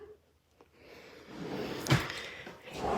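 A cabinet drawer in a craft and stamping room slides and shuts, giving a short rumbling slide that ends in a solid thunk, followed by faint rustling.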